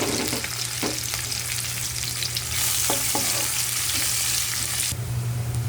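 Onions sauté in a hot pan with pepper and garlic, making a steady, close sizzle broken by a few scraping stirs, and the hiss swells louder midway and again near the end, with no voices.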